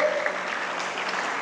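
A short, dense burst of audience applause at a motivational lecture, many hands clapping together at an even level.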